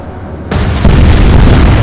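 A destroyer's magazine detonates in the naval video game Atlantic Fleet, a sudden loud boom that swells into a sustained, roaring blast and rumbles on without fading.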